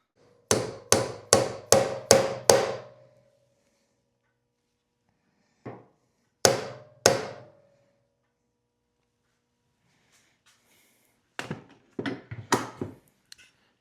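Hammer pounds a fake Hilborn injection stack part into place on a DIY car stroller build, with sharp close knocks in a quick run of five, then scattered single and paired blows and a final cluster of lighter taps.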